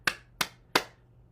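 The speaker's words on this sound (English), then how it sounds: "Clap your hands." Three sharp hand claps, evenly spaced and fairly close, each a crisp isolated smack against a quiet background during a balance exercise session.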